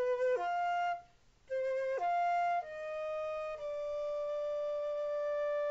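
A solo flute plays a slowing ritardando passage of a simple song: clear, sustained notes stepping through a few pitches, the last tones held long. It is soft and close, with a short breath gap early on and no talking.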